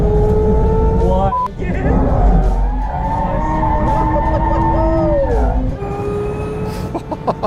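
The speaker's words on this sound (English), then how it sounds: "It's an all-electric, all-wheel drive, fully functioning, race-bred machine." Hyundai N RN22e, an all-electric, all-wheel-drive race concept car, driving on a track. A loud, continuous motor whine rises and falls in pitch throughout, with tyre noise and a brief skid-like burst.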